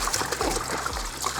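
Water pours into a fermenter for home-brewed hard cider with a continuous close splashing trickle that carries a rising fill tone throughout.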